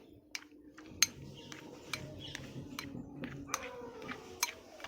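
A spoon stirs a cardamom powder and baking soda mixture in a pan, making faint scrapes with several sharp metallic clinks spaced irregularly over quiet background noise.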